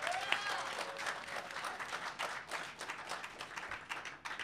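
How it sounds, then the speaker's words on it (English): Crowd at an open mic applauding a performer, a lively, continuous round of clapping with individual claps standing out, lasting several seconds at moderate loudness. "Y'all give him a round of applause."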